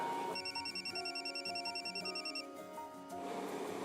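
Telephone ringing in a drama scene, a repeated electronic ring pattern playing steadily and fairly loud, then stopping near the end amid room sound.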